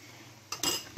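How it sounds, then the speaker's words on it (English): Onions, ginger and garlic stirred in a cooking pot for palak paneer, giving a few short, close metallic scrapes and clinks of a utensil against the pot after a quiet start. "Give it a good stir, give it a good mix."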